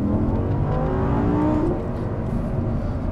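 Audi R8 sports car accelerating hard while struggling for traction, a loud, steady engine roar rising in pitch close by, dropping slightly near the end.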